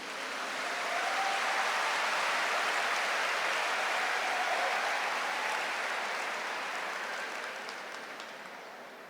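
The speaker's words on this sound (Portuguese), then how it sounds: "Aplaude esse Deus maravilhoso." A church congregation applauds a wonderful God during a Portuguese-language service: dense, even, hissing clapping from many hands, filling the room for several seconds before slowly tapering off.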